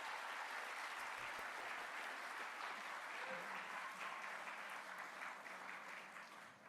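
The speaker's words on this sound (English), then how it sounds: "please, a round of applause for them" Steady applause from a crowd, continuous clapping that fills the whole stretch at an even level, with no talking.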